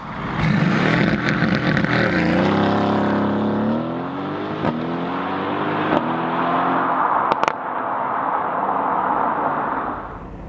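A Mercedes-AMG GT C Roadster engine runs loud and close for the whole stretch, its burbling exhaust note climbing in pitch as the revs rise, then settling into a steady drone with a couple of sharp pops.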